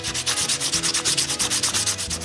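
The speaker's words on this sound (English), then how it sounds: "All this sanding still takes a lot of time." Sandpaper scrapes back and forth over wood in fast, even strokes, shaping carved lion's feet for a cabinet, a steady rhythmic rasping up close.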